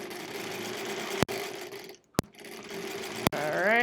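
A sewing machine stitches quilt-as-you-go sampler blocks in a steady close whir, pausing briefly twice with sharp clicks before running again and speeding up at the end.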